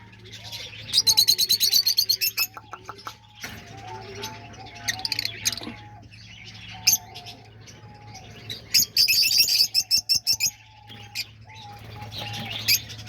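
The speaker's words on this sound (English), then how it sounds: "they're all nice lovebirds" Lovebirds in an aviary give bursts of shrill, rapid chirps and tweets, loud at moments and quieter between, with occasional softer calls and fluttering in the background.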